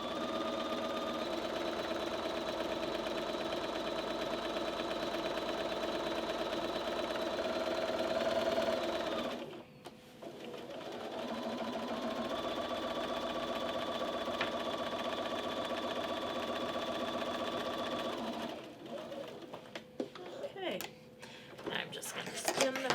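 A sewing machine runs steadily while fabric is guided through for machine quilting with a quarter-inch seam. Its hum lasts about nine seconds, pauses briefly, then runs again, and a voice talks quietly over it.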